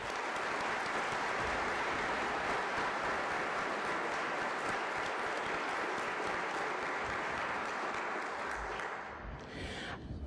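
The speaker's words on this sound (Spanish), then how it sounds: "Pido un aplauso para ella." Audience applause for an extraordinary prize winner of a university master's in chemical engineering at an academic diploma ceremony; sustained, even clapping from a large hall crowd runs about ten seconds before thinning out at the end.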